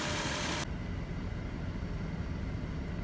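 Dodge Caravan engine running steadily during an A/C recharge, a constant low rumbling drone heard up close. A broader hiss at the start drops away after the first moment.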